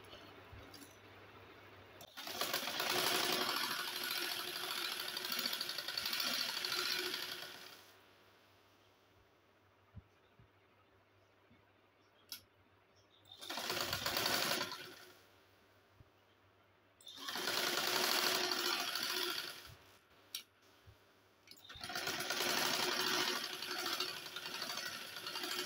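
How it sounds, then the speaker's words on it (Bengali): A sewing machine stitches kurti fabric in several long bursts of steady, buzzing running, separated by quiet pauses, with no talking. "এভাবে আমি সেলাই করে নেব।"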